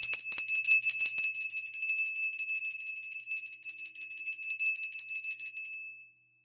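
A solar plexus bell is struck once and left to ring, a bright, high metallic tone with a sharp attack that sustains and slowly fades before cutting to silence near the end.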